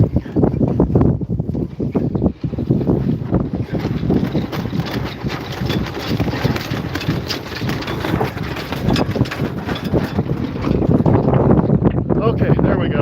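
Strong wind at about 16 knots roars across a microphone aboard a sailboat, a loud continuous buffeting rush mixed with water and boat noise throughout.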